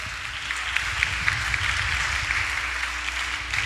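Church congregation applauding during a worship service, a steady wash of clapping from many hands with faint scattered louder claps, continuous for the whole stretch.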